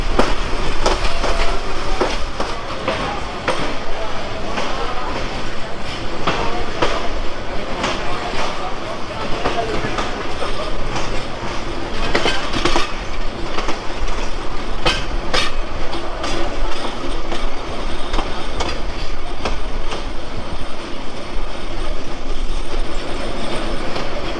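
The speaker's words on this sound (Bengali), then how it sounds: "বদরগঞ্জ রেলওয়ে স্টেশন পার হয়ে গেলাম" Kurigram Express passenger train running on the tracks past a small village station in the Rangpur region, heard from on board as a loud, continuous rumble and clatter of wheels, with some faint voices underneath.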